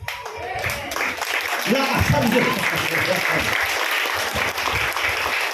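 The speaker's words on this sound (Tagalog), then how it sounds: "Palakpakan na natin ang Panginoon" A church congregation claps and applauds for the Lord, dense sustained applause that swells and then holds steady, with a voice speaking over it near the start.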